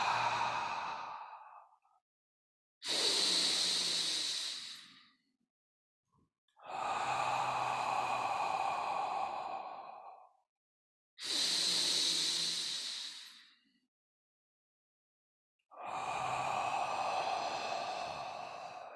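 Slow, deep breaths during a qi gong exercise, each long airy inhale or exhale lasting a couple of seconds and separated by quiet pauses, close and fairly soft, five breaths in all.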